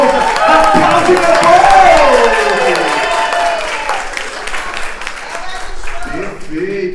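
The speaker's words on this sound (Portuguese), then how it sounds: "Recebo com forte salva de palmas ele, nosso organizador, Francisco Edson Eugênio de Souza." Loud, sustained applause from the audience at an academic round-table session in Brazil for the event's organizer, with a voice calling out over the clapping before it thins and fades.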